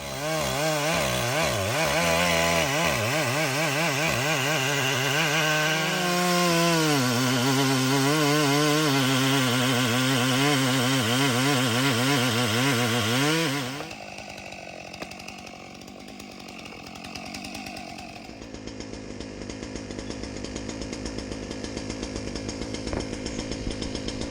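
A chainsaw runs loud and close during tree felling work at a site where a tree could hit a house, its engine revving and bogging steadily for about fourteen seconds before cutting to a quieter outdoor background.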